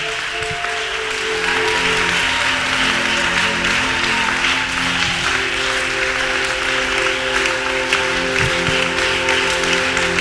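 A church congregation at a revival service applauds and cheers for Jesus in a steady, dense wash of clapping that lasts the whole stretch, with faint voices and tones mixed in.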